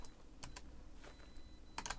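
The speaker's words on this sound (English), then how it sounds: "maybe we'll just try typing it in" Faint typing on a computer keyboard while entering a command in a Pixelmon Minecraft server, a few scattered soft key clicks followed by a quick cluster of taps near the end, close and with no talking.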